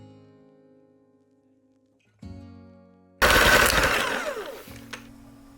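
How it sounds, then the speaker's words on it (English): Over soft background music, an electric mixer starts up and whirs loudly for about a second and a half, creaming butter and granulated sugar for Italian abbracci cookies, then stops. "In this bowl, we're going to cream together 1/2 cup of butter and 1/2 cup of granulated sugar. We're gonna mix this all together until it's nice combined and fluffy."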